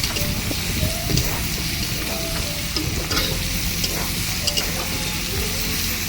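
Mixed winter vegetables fry in a pan, a loud close sizzle and crackle with scattered stirring clatters, no talk.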